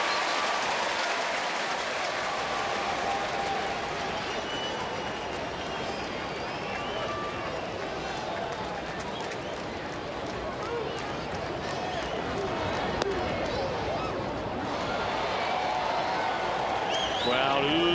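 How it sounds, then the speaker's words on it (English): Baseball stadium crowd at a San Diego at Cincinnati game reacting to a hard Chapman pitch, a dense continuous roar of murmuring and oohs lasting throughout, with an announcer talking over it. "Crowd oohs and ahs, looking at the radar gun instantly after every single Chapman pitch."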